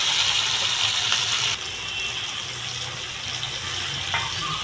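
Bowl-rinsing water is poured into a mustard-poppy bata fish curry, giving a steady, close splashing and sizzling hiss that eases slightly partway through.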